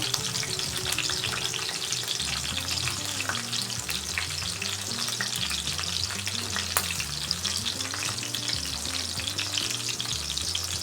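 Grated ginger and garlic with green chillies fry in hot oil in a pan for a quick rohu fish curry, a loud, continuous crackling sizzle that stays even from start to finish with no talking.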